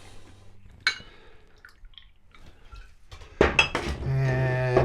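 Wet plate photographic developer poured out from a container in a darkroom, heard as a loud, close splash and trickle of liquid with clinks of a tray or glass, after quieter handling sounds.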